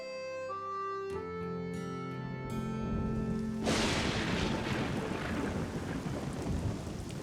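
Rain and thunder in a cartoon scene, a rumbling storm swelling in after a few sustained musical notes, then heavy continuous rainfall with low thunder rolling underneath.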